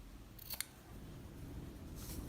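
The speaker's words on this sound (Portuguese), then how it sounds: "A gente pode dar um corte aqui." Scissors snip through fabric scraps during a quick craft project: a single short, crisp cut close by, with quiet room tone before and after.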